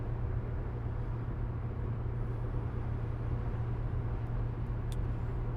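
Steady, even low drone of a 2001 Audi S4 Avant with a six-speed manual cruising in sixth gear on boost, heard from inside the car as a smooth continuous rumble with no voices.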